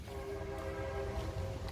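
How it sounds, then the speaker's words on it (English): A passing train in Den Haag gives a sustained horn-like tone over a low rumble of rolling cars, steady and moderately close with no talk. "There's a train."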